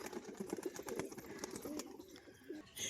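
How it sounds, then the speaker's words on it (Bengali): Rajshahi pigeons coo softly in short, burbling phrases while feeding, fairly faint, amid light scratching and fluttering nearby. "আমার রাজশাহী পায়রাগুলো খাওয়া দাওয়া করছে"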